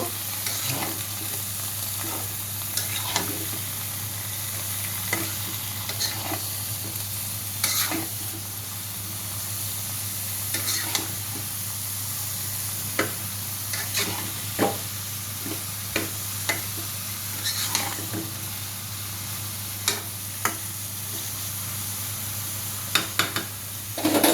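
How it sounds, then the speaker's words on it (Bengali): Dried fish curry being stirred in a pan, with a steady sizzle under a low hum and regular scraping and tapping strokes of the spoon against the pan. "এখন একটু নেড়ে দিব।"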